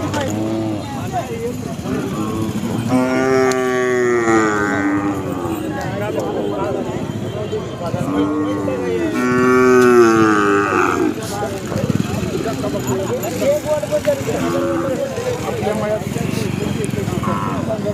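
Khillar cattle moo several times with long, drawn-out calls, mixed in with people talking nearby at the Sangola bullock market.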